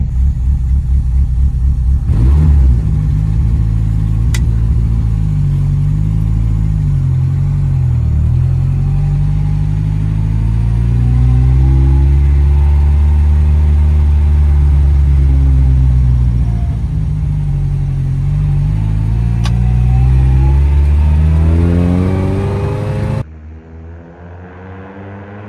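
A historic Lancia Appia GTE racing car drives with its engine close and loud, a continuous rumble that climbs and falls through the gears before cutting off abruptly near the end.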